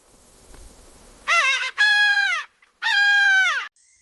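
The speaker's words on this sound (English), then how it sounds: "Peacock." A peacock calls loudly at close range, three harsh, nasal, strongly harmonic cries with short gaps between them, coming after a brief stretch of faint low background noise.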